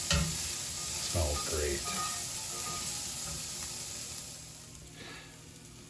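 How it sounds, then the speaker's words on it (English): Ground beef for tacos sizzles in a pan with a constant frying hiss and occasional stirring scrapes, while a person briefly speaks over it. "let our beef cook undisturbed to develop that crust"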